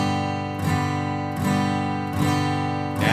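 A guitar strums a practice chord four times, each strum ringing out evenly and sustaining until the next, at a moderate, close volume.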